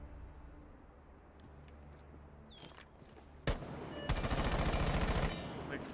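AK-12 rifle firing in Rainbow Six Siege: after a quieter stretch with light movement sounds, a sharp loud shot cracks out, then a dense rapid burst of gunfire rattles for over a second before fading.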